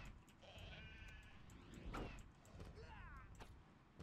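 Sheep bleat in the Grand Fantasia online game's Knight Valley area, several wavering cries rising over game music and combat effects, with a player talking over them.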